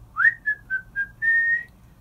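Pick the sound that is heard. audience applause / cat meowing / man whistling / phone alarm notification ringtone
man whistling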